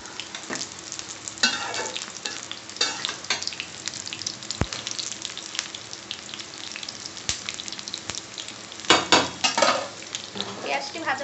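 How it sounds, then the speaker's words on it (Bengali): Chopped onions fry in a pan as the base for home-style Maggi noodles, giving a steady close sizzle with occasional scraping stirs and light clinks of utensils against the pan, and no voice over it. "তো আমরা বর্তমানে নুডলসের জন্য পেঁয়াজ দিয়ে দিয়েছি।"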